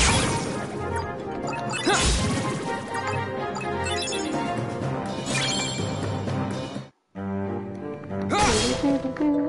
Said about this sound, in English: I don't know why I'm smashing all these things.